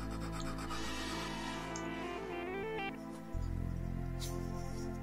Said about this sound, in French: j'utilise la lime, des limes aiguilles pour pouvoir rendre ça tout joli